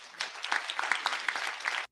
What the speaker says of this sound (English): Who's clapping?